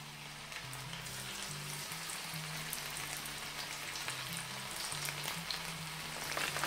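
Small chicken pieces frying in oil in a pan, giving a steady crackling sizzle like light rain throughout, with faint low tones underneath.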